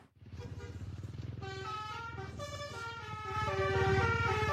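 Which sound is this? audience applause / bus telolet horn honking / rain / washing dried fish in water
bus telolet horn honking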